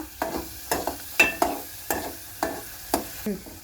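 Sliced onions frying for egg curry are stirred in a pan, a spoon scraping in regular strokes about twice a second over a low, constant sizzle, close and clear with no talking.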